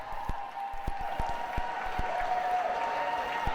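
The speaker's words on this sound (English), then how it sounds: "Great to see the excitement from the crowd as Aaron finished up" Spectators at a swimming meet give scattered applause that echoes around an indoor aquatics venue, with separate sharp claps over a steady reverberant crowd wash and a faint high whistle-like tone, moderately loud and carrying on throughout.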